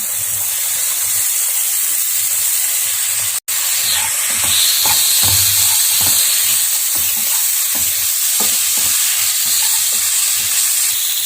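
Small chopped pieces of bitter gourd saute in a hot pan with a loud, continuous sizzle and hiss, broken by a brief dropout and frequent scraping stirs, close and without speech.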